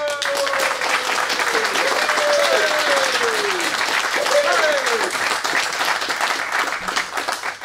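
An audience at an evening show in a Dutch venue breaks into loud, sustained applause that fills the whole stretch, with a few falling whoops or voices rising above the clapping.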